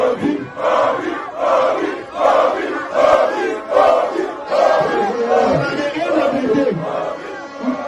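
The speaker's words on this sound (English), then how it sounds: "So see the mammoth crowd there that came out" Large outdoor crowd at a Peter Obi political campaign rally chanting in loud rhythmic waves, with repeated surges of massed voices throughout.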